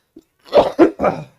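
Several quick coughs in a row, close and loud, with a short throat-clearing quality.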